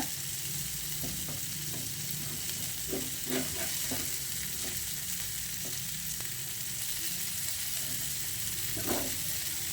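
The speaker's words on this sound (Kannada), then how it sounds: "ಇದು ಸಣ್ಣ ಉರಿಯಲ್ಲಿ ಫ್ರೈ ಆಗ್ಲಿಕ್ಕೆ ಬಿಡಬೇಕು" River fish pieces coated in masala fry in a little oil over a low flame, giving an even, close hiss with faint crackles and a few stirring or turning sounds.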